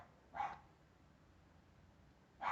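A pet dog barks twice indoors, a single short bark near the start and another at the end, moderately loud and separated by quiet room tone with no talking.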